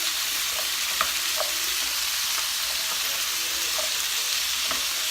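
Spiced sweet potatoes and carrots cook in a hot pan with a steady, close sizzle and frying crackle, plus a few faint pops and stirring taps, and no voices.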